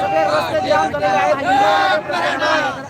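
A huge crowd of Maratha protesters gathers at a reservation demand rally, their steady hubbub and chatter filling the space beneath a prominent nearby voice that speaks throughout.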